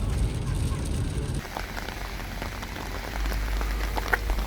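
Constant rain falls during a long drive through Germany, a dense steady patter on the vehicle over a low road rumble, filling the scene without any voices.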